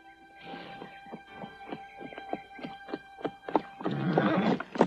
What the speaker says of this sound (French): Et ce cheval s'appelle Sundance?